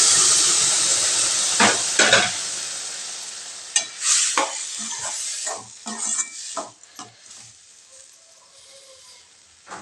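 Roasted horse gram is stirred together with cooked horse gram in a pan. A sizzling hiss fades while irregular scraping strokes of the spoon come and go, close and clear, with no talking.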